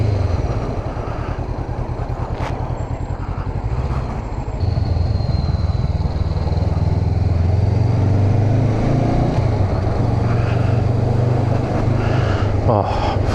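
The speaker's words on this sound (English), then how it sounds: "Oh, fucking love the downshift popping on this bike." Honda CBR500R 2019 motorcycle engine droning steadily and rising in pitch as it accelerates close to the mic, with wind rush throughout; distinct downshift pops are not clearly separable from the engine noise.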